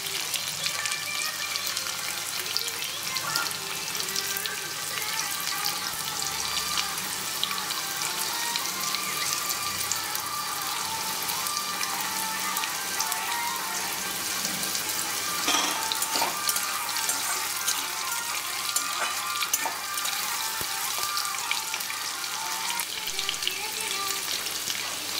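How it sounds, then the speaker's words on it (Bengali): Potatoes frying in a pan for a Bengali chole bhature meal, giving a steady, close bright sizzle and crackle that runs unbroken for the whole stretch without any talk. "আলুগুলো লাল লাল করে ভেজে নেব।"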